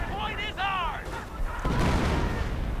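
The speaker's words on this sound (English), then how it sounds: "Artillery firing once more." Artillery firing in a World War II real-time strategy game produces heavy booms with rumbling, noisy explosions that build in the second half, mixed with whistling game effects and a continuous loud bed of battle noise.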